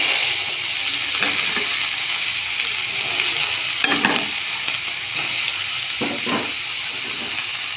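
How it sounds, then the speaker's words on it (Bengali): Dal frying in hot white oil in a kadai for dal chanachur, a steady bright hissing sizzle with scraping stir strokes and occasional louder clatters, heard close and alone. "কড়াই ডাল দিয়ে দেবো"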